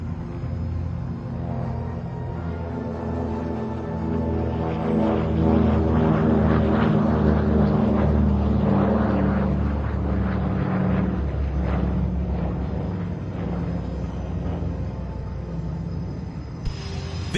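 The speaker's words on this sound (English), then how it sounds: "Lifting into the skies, ladies and gentlemen, the iconic P-40 Warhawk, and on the takeoff roll, the" A P-40 Warhawk and a C-47 take off at the Joint Base Andrews air show, a continuous propeller-engine drone that swells through the middle and then holds steady, heard alone without talk.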